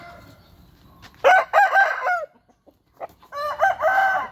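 A newly arrived rooster crows twice at close range, with a short quiet gap between two strained, harmonic calls, among a small batch of fowl that also includes a hen.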